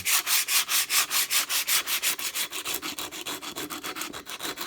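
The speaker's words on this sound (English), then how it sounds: "Now this sandpaper, it's amazing how good it is." Close, steady back-and-forth rasping of sandpaper hand-sanding the edge of stone, with quick even strokes that continue throughout.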